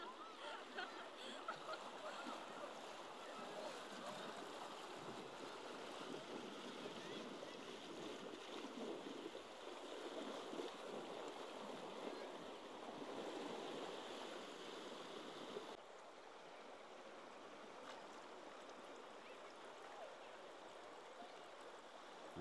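Water from a waterfall spills down into a cool stream, a steady broadband rushing and splashing that stays constant throughout, dropping slightly in level near the end, with no talking.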